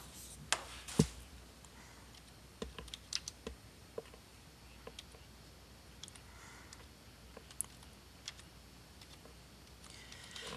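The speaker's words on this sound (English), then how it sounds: "Okay, and I was typing." Quiet, sporadic keyboard clicks over a soft background hiss, irregular taps with short pauses between them, no voices.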